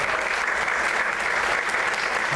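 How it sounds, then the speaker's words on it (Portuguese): A church congregation applauds steadily throughout, a dense, even wash of clapping from many hands without pauses. "Você pode aplaudir o Senhor"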